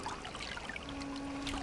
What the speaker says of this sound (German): Ich könnte hier eigentlich meine Feldflasche auffüllen.